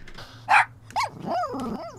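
A dog in a scary short film lets out a sharp bark, then a rising yelp and a longer whining, growling cry, close and loud over a low hum.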